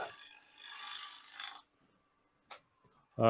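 A shear scraper rasps across wood on a lathe to blend a gouge cut, producing a soft, close scraping stroke of about a second and a half, followed by near silence and a brief tap.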